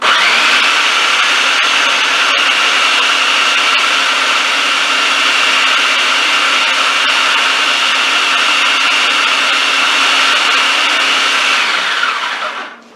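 A blender whirs loud and steady, spinning cilantro and oil into a paste, its motor holding a constant high whine close by before cutting off at the end.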